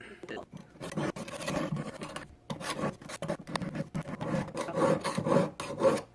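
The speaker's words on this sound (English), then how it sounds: "you want to switch to a needle file. This is a number 2 cut" A number 2 cut needle file rasps against a metal cuff blank in uneven back-and-forth strokes, close and fairly quiet, with short pauses between bursts.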